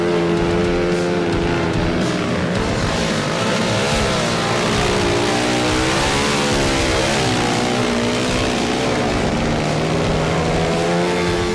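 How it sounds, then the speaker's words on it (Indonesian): Trail motorcycles climb a steep, slippery mountain track near Pagar Alam, engines revving hard and continuously at close range, pitch rising and falling as the throttle is worked, with no talk over them. "Memasuki jalur pendakian, motor-motor trail ini harus digaspol."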